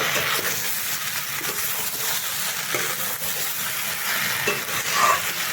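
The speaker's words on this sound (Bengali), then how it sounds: "এই মশলাটাকে ভালোভাবে মিশিয়ে নেব" Mustard spice paste is stirred in a pan for an okra and fish roe curry, a loud steady frying hiss with rhythmic spoon scrapes throughout, close and uninterrupted by speech.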